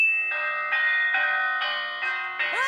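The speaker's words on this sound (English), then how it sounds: "who's ringing the bell?" Repeated ringing of a bell in a My Little Pony cartoon, six bright, evenly spaced metallic clangs sounding loud and close, with no talk over them.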